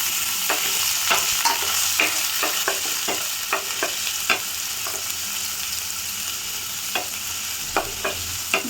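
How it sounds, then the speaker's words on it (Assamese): Garlic frying in mustard oil sizzles steadily as a spoon stirs the pan, with a run of sharp scraping taps spaced irregularly over the hiss, close and fairly quiet. "নহৰুখিনি অলপ সময় অকণমান ভাজি ল'ম নামমাত্ৰ।"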